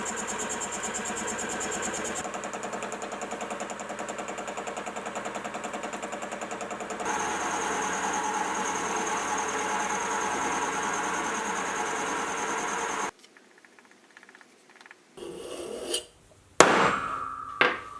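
A milling machine cuts a mild steel part, a steady loud whirring and grinding drone with a shift in pitch partway through, then the machine stops and a few close metallic clanks and handling knocks follow.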